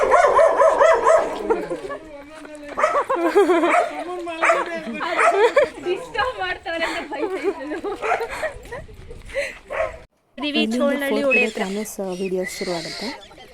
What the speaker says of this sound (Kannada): ನಾಯಿ ಗುರ್ರ ಅಂತಿದೆ